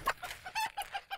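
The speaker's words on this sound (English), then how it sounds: "So those are my beautiful birds. We call them Fayoumi." Fayoumi chickens, a hot-climate breed kept on a desert permaculture farm, give a quick run of about six short clucks close by, with no talk.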